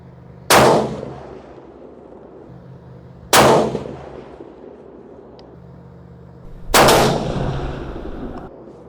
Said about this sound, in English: Let's shoot one more 3-shot string with it